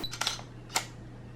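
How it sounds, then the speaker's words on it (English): A camera shutter snaps twice, a quick double click followed by a second sharp click, close and crisp against a faint hum. "That was the sound of the shutter opening and closing when it took a picture."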